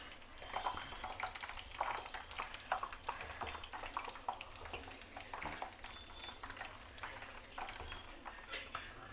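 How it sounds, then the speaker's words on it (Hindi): Puris frying one by one in oil for a Rajab niyaz recipe, a soft continuous sizzle with small crackles and occasional utensil clinks, fairly quiet and without speech. "अब एक एक करके पूरी को डाल के फ्राई कर लेंगे।"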